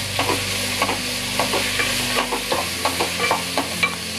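Onion frying in a pan while cooking green chicken, a close, steady sizzle with rhythmic stirring scrapes about every half second.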